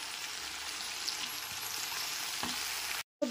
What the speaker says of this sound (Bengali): সবজিগুলো ওপর থেকে নিচে একবার খুব ভালো মতো নেড়ে নিলাম।